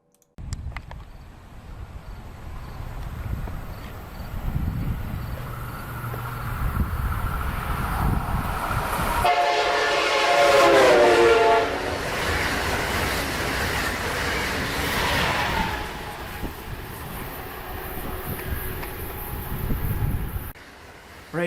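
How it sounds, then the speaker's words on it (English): A train passing close by with a horn blast whose pitch drops as it goes by, over rumbling rail noise and wind buffeting the microphone, loud throughout with no talk. "as the train passes and starts moving away from you, you'll notice that the frequency drops."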